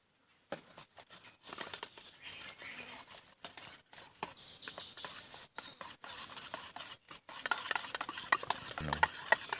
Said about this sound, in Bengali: এবার আমি গামলির মধ্যে একটা ডিম দিয়ে দিচ্ছি এবার আমি এটার সাহায্যে ভালো করে ফেটে নেব